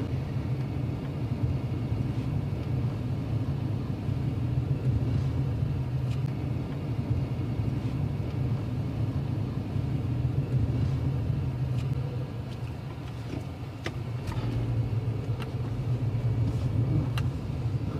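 A car creeping slowly through a neighborhood of luxury homes, its engine a low, steady rumble from inside the cabin with faint ticks and clicks scattered over it.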